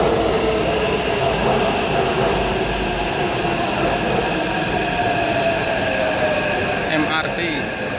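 Taipei MRT metro train on the blue line toward Taipei Station, a steady loud rumble and hum of the running train filling the whole stretch, with people talking over it.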